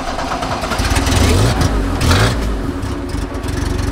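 A first-generation Dodge Charger with a carbureted engine cranks and fires up, the rough, loud engine note rumbling and surging close by for the whole moment, with people nearby.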